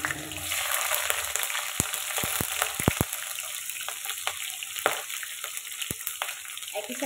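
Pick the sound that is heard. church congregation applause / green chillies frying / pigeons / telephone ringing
green chillies frying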